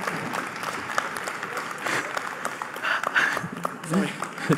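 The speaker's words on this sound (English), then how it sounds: "Applause for Vladi." Conference audience applauding a presenter at a company white paper launch, a moderate burst of clapping that swells and dips, with voices talking over it near the end.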